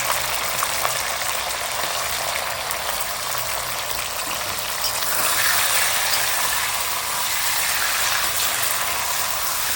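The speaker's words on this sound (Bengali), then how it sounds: "চিকেনগুলো আমি ভেজে নিচ্ছি" Chicken pieces fry in white oil in a kadai wok, giving a loud, steady, close-up hiss and crackle that holds without pause throughout.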